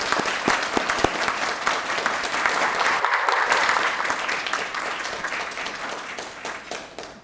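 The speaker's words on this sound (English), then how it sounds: "Let's give them a round of applause" Applause from a luncheon audience: steady, dense clapping with a few sharp individual claps standing out near the start, continuing evenly at moderate distance before tapering slightly at the end.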